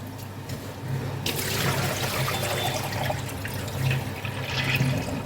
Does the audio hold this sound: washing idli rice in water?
yes